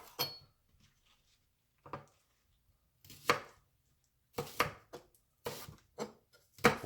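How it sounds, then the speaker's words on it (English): Green onions being chopped with a knife on a board: scattered sharp taps, first a few isolated strikes, then quicker clustered chops, close and clear against near silence, with no voices. "then we're going to chop our green onions"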